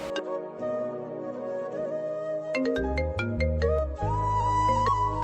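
A mobile phone ringtone for an incoming call plays loudly and continuously, a melodic electronic tune with repeating notes and a heavier bass-backed section near the end, with no voices.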